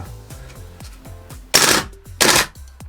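PP2000 airsoft SMG replica running on gas, firing two short loud bursts of rapid shots, with quieter clicking mechanical knocks of the action before and between them.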